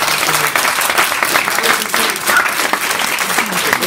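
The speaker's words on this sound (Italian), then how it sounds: "un applauso enorme a chi l'ha voluto" Audience applause at the inauguration of a clinic in Riace, a dense, even wash of many hands clapping steadily throughout, loud and continuous.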